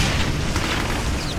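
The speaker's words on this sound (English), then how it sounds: "you can launch rockets and lob grenades with the grenade launcher" A grenade launcher explosion in Brutal Doom: one loud, close, sustained boom with a rough rumbling body that holds steady throughout.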